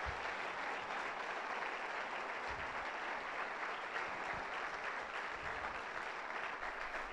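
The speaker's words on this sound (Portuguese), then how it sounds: "Vamos dar um forte aplauso para todos eles." Audience applause for the organizers at a talk on emotional intelligence, a steady, fairly quiet and even wash of many hands clapping that continues without pause for the whole stretch.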